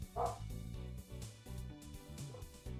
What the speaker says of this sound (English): It's my neighbor's dog. Why would you be so loud?